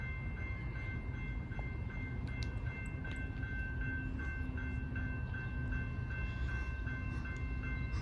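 Steady rumble of a passing CSX train in a no-horn zone, with a continuous low roar and a high, tonal crossing-bell ring riding over it, no voices.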